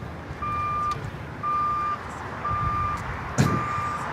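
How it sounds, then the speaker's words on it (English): A vehicle reversing at LAX airport sounds four evenly spaced, steady electronic beeps about one second apart over low traffic rumble, with a brief clatter near the end. "Backing up, backing up, backing up, backing up."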